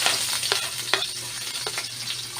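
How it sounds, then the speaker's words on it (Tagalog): Onion, garlic, ginger and tomato sauté in hot oil for salmon-head sinigang, a steady close sizzle broken by a few sharp stirring clicks and scrapes. "Igisa natin to."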